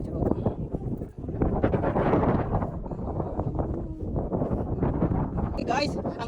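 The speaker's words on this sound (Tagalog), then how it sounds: "ang hangin dito" Strong wind buffets the microphone on a hiking trail at Mundaring Weir in Western Australia, a steady roaring rumble under nearly continuous talk and laughter from the hikers.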